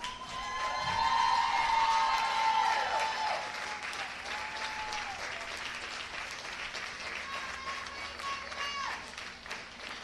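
Applause from a crowd at a college baseball championship game, loud at first and then tapering to steady clapping, with a few whoops and cheers mixed in.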